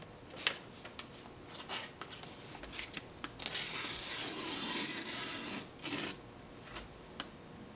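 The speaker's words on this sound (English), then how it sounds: "I've just been sharpening this serrated steak knife" A serrated steak knife is sharpened on a 1x30 belt sander, giving scattered short scraping rubs and a sustained grinding rasp in the middle, with brief contacts between.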